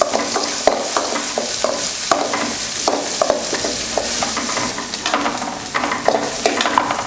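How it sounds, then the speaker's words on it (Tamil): Small onions (shallots) sauté in a hot pan for village-style tiffin sambar, with a steady crackling sizzle and repeated spoon scrapes and stirring clanks coming close and loud throughout. "சின்ன வெங்காயம் நல்லா வதங்கணும்."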